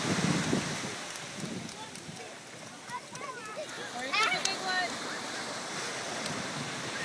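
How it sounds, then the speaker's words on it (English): Ocean waves wash onto a beach in a steady roar with wind buffeting the microphone, while people talk over the surf. "go chase some waves"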